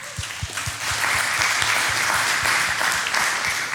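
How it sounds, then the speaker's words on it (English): An audience claps steadily through a sermon-style talk, a dense, even wash of applause with some louder individual claps near the front, holding at full level from start to finish with no voices over it. "you can clap for that"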